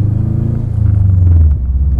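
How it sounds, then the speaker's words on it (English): A loud Subaru WRX engine rumbles deeply up close, with a steady throbbing pulse that swells and then drops slightly. "This car is obnoxiously loud."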